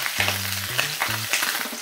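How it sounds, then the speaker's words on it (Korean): Beef sears in olive oil in a hot pan, a steady close sizzle and crackle running throughout, joined by a few low humming tones partway through. "고기 먼저 볶아주겠습니다"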